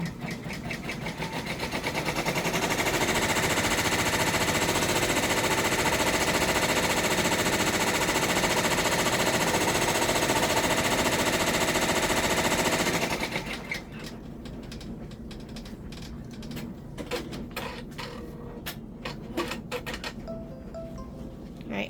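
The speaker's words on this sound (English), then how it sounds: "now it's going to do a placement stitch for the basket fabric" A 10-needle embroidery machine runs a placement stitch for basket fabric, a loud, steady mechanical hum with a fast chattering rhythm lasting about thirteen seconds. The motor then stops, leaving quieter scattered clicks and light handling noises.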